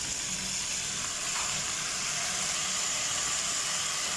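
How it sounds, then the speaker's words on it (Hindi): Hard vegetables fry in a pan for methi pulao, a steady loud sizzling hiss with faint clinks, close by and uninterrupted throughout. "पहले ये सब थोड़ा हार्ड वेजिटेबल है, तो पहले इसे हम फ्राई कर लेते हैं।"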